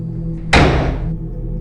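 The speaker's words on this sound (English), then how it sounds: "I ran out of the room, slamming the door behind me." A door is slammed shut: one sudden loud bang that rings out and decays quickly, heard close with nothing else over it.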